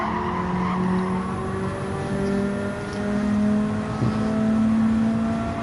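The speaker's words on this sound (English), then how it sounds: "You can hear the tyres squealing." Race car tyres squeal loudly and continuously over a constant engine drone in a British Touring Car Championship video game race, with a sharp screech near the end.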